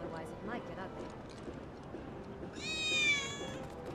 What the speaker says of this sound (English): Wait, did you hear that just now? I think one of Betty's cats might be nearby.